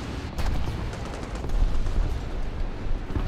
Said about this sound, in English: See the machine gun fire there